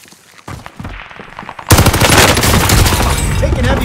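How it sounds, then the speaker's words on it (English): Heavy automatic gunfire in a World War II-style shooter video game, a quiet start giving way to a sudden loud, dense, sustained barrage of rapid machine-gun bursts with overlapping shots. "Taking heavy fire."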